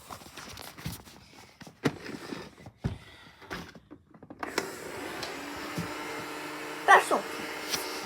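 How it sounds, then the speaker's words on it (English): A Roomba robot vacuum runs with a steady whirring motor hum that settles in after a stretch of knocks, footsteps and handling noises, with a couple of sharper bumps near the end. "this is kind of like a normal vacuum. It pushes down and it just sucks up."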